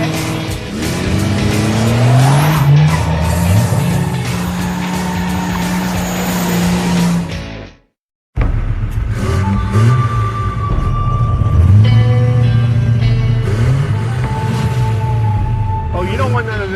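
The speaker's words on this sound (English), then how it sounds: "this truck is going to be great for burnouts because I literally just like touched the throttle and it came to life." A Chevrolet S10 pickup does a burnout, the engine revving loud and close while the tires squeal in long rising and falling tones. A brief cut to near silence comes before the engine and squealing return, with a voice over the noise.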